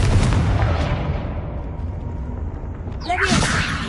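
A Confringo explosive spell cast in a Harry Potter video game, heard as a loud burst with a bright whooshing flare near the end, rising over steady game noise.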